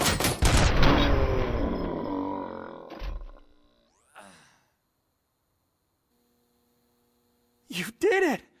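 Gunfire bursts out in Robocop: Rogue City, a loud, dense volley in the opening seconds that tapers away, followed by a short electronic sweep and two more sharp blasts near the end amid quieter moments.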